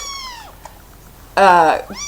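Kittens meow several times, with high, wavering, fairly loud cries close by and one louder burst near the end, in a quiet room.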